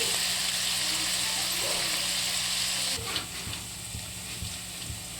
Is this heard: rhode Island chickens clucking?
no